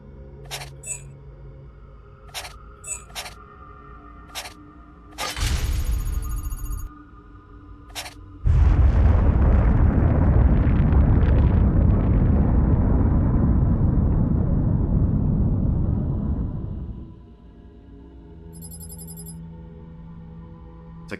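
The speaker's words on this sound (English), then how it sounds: "I guess that explosion happened because they tried to destroy the apple with it." A long, roaring explosion rumbles for several seconds in Assassin's Creed II, loud and broad, framed by sparse electronic game blips and tones before and after.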